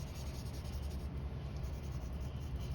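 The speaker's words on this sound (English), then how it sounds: "I'm holding the pencil way down by the eraser, so there's just barely touching the paper." A pencil shades lightly across paper, held far back by the eraser and barely touching, a soft continuous scratchy hiss close up and steady throughout, with no talk.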